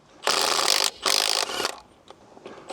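Milwaukee M12 Stubby cordless impact wrench breaking lug nuts loose on a Sprinter van wheel with BFG KO3 tires, giving two loud sustained hammering bursts, then a shorter third burst and faint clicks, close up.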